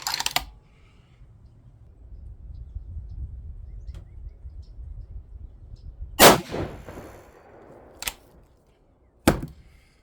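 A 6.5 PRC Bergara B14 HMR rifle firing 140gr ELD-M rounds: three sharp, loud reports, the first a big booming crack with a long decaying tail, then two shorter cracks spaced about a second apart, over quiet outdoor background.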